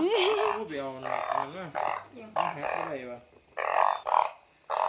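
Frogs croak in a loud, close run of deep, rhythmic calls, each croak pulsing in quick succession, with some rough noise between them.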